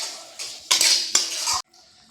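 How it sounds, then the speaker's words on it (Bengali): Fried potatoes are stirred into masala in a pan: loud, close bursts of metal spatula scraping and clattering come in two or three strokes, then cut off abruptly. "আবারও একদম অল্প সামান্য জল দিয়ে আলুর সাথে মশলাটাকে কষিয়ে নেব"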